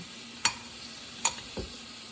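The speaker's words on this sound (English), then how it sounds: "So you just stir it up really good." Thick salmon ball batter made with self-rising flour being stirred in a bowl, two sharp scraping knocks of the spoon and a softer thud, close and isolated over a quiet background.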